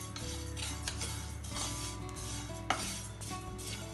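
Sesame seeds roasting in a pan over a medium gas flame, a steady faint sizzle and crackle broken by occasional scrapes and clinks of a spatula against the metal.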